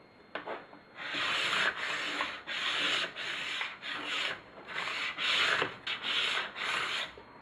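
A plastic scraper drawn repeatedly along a ski base to strip off wax, giving a series of rough, close scraping strokes with short gaps between each pass.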